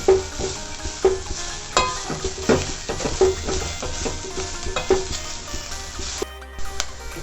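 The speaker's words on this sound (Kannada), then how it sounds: "ಅದೇ ಉರಿಲೇ ನಾವು ಫ್ರೈ ಮಾಡಬೇಕು. ಈ ತುಪ್ಪದಲ್ಲೇ ತುಂಬ ಚೆನ್ನಾಗಿದು ಬೇಯಬೇಕು." Grated carrots fry in ghee over a low flame for carrot halwa, a soft sizzle broken by repeated scraping and stirring knocks of a spoon against the pan, close and without talk.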